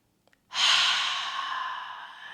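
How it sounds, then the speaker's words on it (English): One long, steady exhale through the mouth during a yoga session, close and fairly loud, a breathy rush that fades slowly after two faint clicks. "One more breath and exhale through the mouth."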